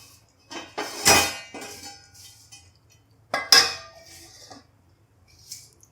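A metal lid is set back onto a pot of vegetable biryani, making two sharp, close clanks with brief rattles and a few lighter clinks between them in an otherwise quiet kitchen.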